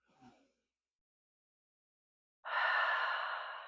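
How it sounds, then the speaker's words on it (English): A long breathy exhale, close and soft, starts after a brief faint breath and near silence and then trails off gradually. "Nice long letting go exhale"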